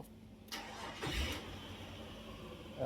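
A Nissan Terrano's VG33E V6 engine, running without its belt, cranks and catches around the one-second mark, then settles into a steady idle close by, with no talking.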